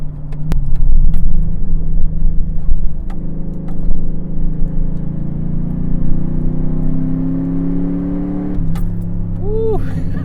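A Chevrolet TrailBlazer SS, a 400 HP SUV, pulls hard as its engine climbs steadily in pitch, a loud continuous drone heard from inside the cabin with a brief jingle of keys.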